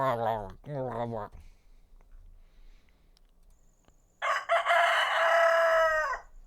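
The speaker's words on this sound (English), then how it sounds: "Well, that's a rooster, I think." Rooster crowing in one long, loud, drawn-out call near the end, preceded by two short harmonic vocal bursts and a quiet stretch.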